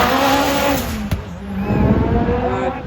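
A rally car at Motofest Coventry passes at speed with a loud engine note that rises and falls through gear changes, tyres squealing briefly as it sweeps close by.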